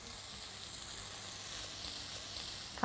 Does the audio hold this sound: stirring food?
yes